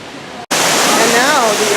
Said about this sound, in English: It's hard to talk over the sound of the water